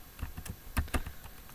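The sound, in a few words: typing code on a computer keyboard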